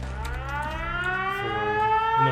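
A wailing siren in the video game Fallout 76 with a slowly rising, sweeping tone that holds loud and steady, heard alone with no talking.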